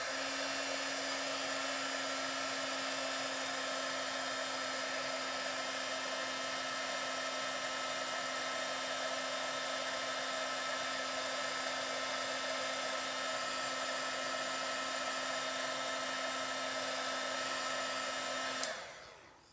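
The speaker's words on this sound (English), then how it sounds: "now I'm going to heat this up, and the heat tool is going to melt this powder" Heat tool blowing continuously to melt Stampin' Up! pigment sprinkles powder on a card, a close, steady high whirring hum that holds unchanged for nearly twenty seconds before clicking off.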